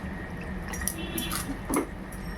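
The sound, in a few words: small amount of water poured into chilli chicken gravy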